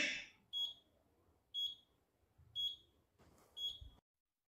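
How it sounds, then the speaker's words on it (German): An oven timer serving as an alarm clock beeps in four evenly spaced high electronic bursts. Each burst is clear and fairly close, with quiet hum in the gaps between them. "Also sein Wecker ist sein verdammter Backofen."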